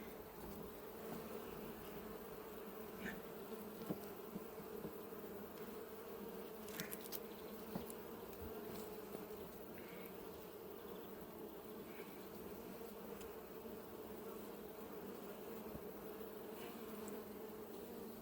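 Honey bees swarm around an opened hive during an apiary inspection of a drone-laying colony, producing a steady, dense buzzing hum that holds evenly throughout with no voices.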